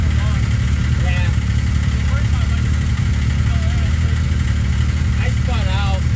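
A Polaris RZR XP fitted with a Yamaha triple snowmobile engine runs steadily with a loud, low mechanical drone, while people talk over it.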